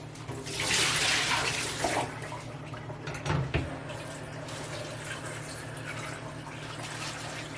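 Water runs and splashes while the soaking water for ranunculus corms in bags is changed, with a louder gush early, a couple of thuds midway, then a softer steady trickle, and no talking.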